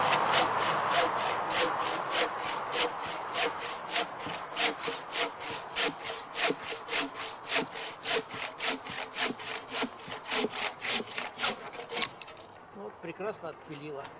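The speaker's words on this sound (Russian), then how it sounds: "Пилить я очень не люблю." A handsaw cuts through firewood logs for a fireplace out in the woods, its steady back-and-forth strokes rasping close and loud in an even rhythm for the whole stretch before stopping near the end.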